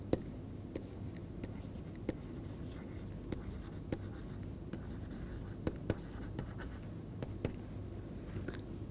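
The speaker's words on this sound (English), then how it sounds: "let me write the Lagrangian." Writing out an equation on a board during an engineering lecture on optimization: a faint, steady scratch of the pen or chalk broken by scattered sharp taps and ticks, with no voice.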